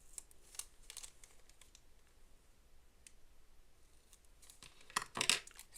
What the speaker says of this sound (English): Cut the corners.